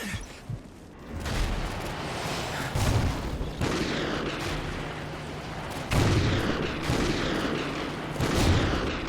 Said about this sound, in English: Use the remote sniper to clear those RPGs!